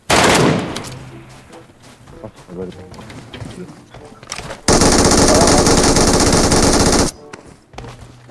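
Loud bursts of rapid automatic gunfire in PUBG Metro Royale, including one long sustained stream of shots, with excited voices talking over the action.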